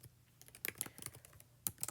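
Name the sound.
typing on a computer keyboard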